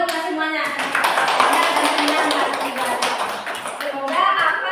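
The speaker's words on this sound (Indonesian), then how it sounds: "tepuk tangan buat semuanya." A class of children claps their hands together for everyone, giving quick, scattered claps mixed with voices that talk continuously throughout.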